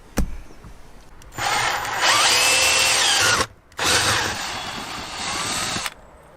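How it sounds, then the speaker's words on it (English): A power drill with a rusty 13mm bit bores steadily in two long bursts with a brief pause between, loud and close, the motor whining under load, inside a van. "one rusty 13mm drill bit later"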